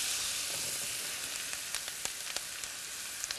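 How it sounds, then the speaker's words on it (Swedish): Cleaned chanterelle mushrooms fry in hot butter in a pan, a steady soft sizzle with scattered small pops and crackles, fairly quiet and close. "Rensade kantareller ner i det varma smöret."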